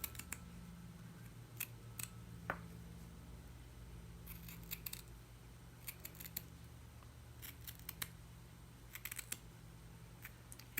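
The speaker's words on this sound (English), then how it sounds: "I just take the scissors and trim around the outside of the shape." Quiet, intermittent snips of scissors cutting through burlap, short crisp bursts in uneven groups over a faint low hum.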